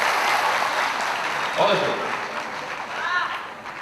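Audience applause at a patriotic evening event in Sambhaji Nagar, Aurangabad, a steady wash of clapping from a crowd heard throughout under a voice.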